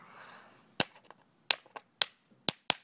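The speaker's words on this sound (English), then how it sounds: "It releases iodine gas as it is exploding." Nitrogen triiodide detonating in a rapid string of five or six sharp, loud cracks like cap-gun snaps, each a crisp isolated pop with quiet gaps between, close by.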